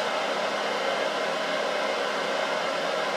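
A Grizzly G0752 metal lathe runs during a test run, producing a steady, even, airy whir at constant level throughout.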